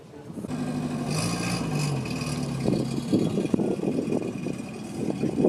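A TVR sports car at a concours d'elegance at Paleis het Loo, Apeldoorn, rumbles and pulls away, its engine note rising briefly then fading, with crowd chatter and scattered clatter around it.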